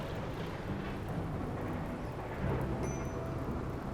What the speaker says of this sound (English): I know I'm doing this, and it's raining again. Does it ever stop raining?